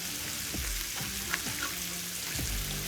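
A full flat top griddle of bacon sizzles in a dense, steady crackling hiss, with occasional scraping and stirring knocks on top. Close and continuous.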